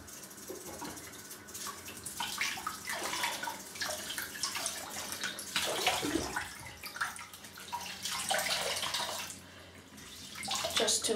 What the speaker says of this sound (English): let's wash the face off once more.